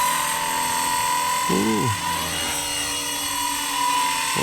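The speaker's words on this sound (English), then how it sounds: "the Smart helicopter is such a good helicopter. The 230, the 230S." A Blade 230 S Smart radio-controlled helicopter flies close by, its steady high rotor whine and buzzing motor holding throughout, with a brief pitch sweep midway and a short exclamation from a person.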